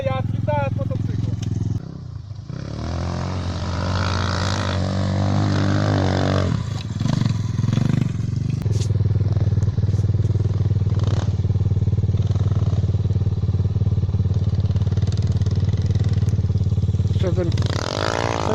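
A Motoland CRF enduro motorcycle engine runs loud and close, droning and revving with clatter and scrapes, while someone talks over it.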